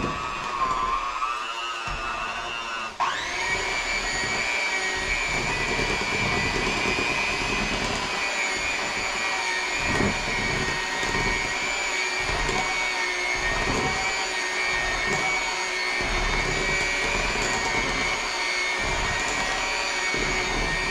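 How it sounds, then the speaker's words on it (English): An electric mixer whirs through carrot cake batter, starting with a sharp jump in pitch and then holding a loud, steady motor whine with soft rhythmic thumps underneath. "I'm just going to mix this real good."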